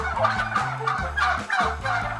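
A turkey gobbles repeatedly in rapid, bubbling bursts, loud and close, over a steady low hum.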